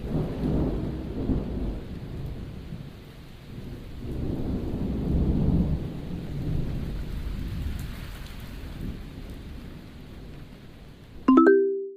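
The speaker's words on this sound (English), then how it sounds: "Playing my thunder noises." Recorded thunder and rain played back: steady rainfall with long, low rolling thunder swells rising and fading across the stretch, ending in a brief sharp tonal blip.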